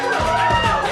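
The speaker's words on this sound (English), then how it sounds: "Listen to that crowd. Oh my God, they're still going." A live audience at a comedy podcast show cheers and shouts, a dense, steady wall of many voices at loud, even level throughout this brief moment.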